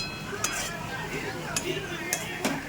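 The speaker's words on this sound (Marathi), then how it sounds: "मशरूम टाकल्यानंतर चांगलं फिरून घ्यायचं आहे, चांगलं खालीवर." A spoon scrapes and clinks against a pan while mushrooms are stirred for paneer bhurji, with a few sharp metallic taps standing out over a steady low sizzle and background noise.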